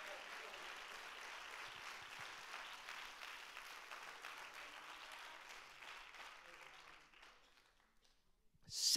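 A church congregation claps its hands in a steady, fairly distant stream of applause that slowly thins and fades toward the end, with a brief louder noise at the close.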